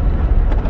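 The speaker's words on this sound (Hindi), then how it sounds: "जबरदस्त हवा चल रही है" Strong wind buffeting the microphone at a dam in a mountain setting near Kohat, Pakistan, a steady loud low rumble with no break.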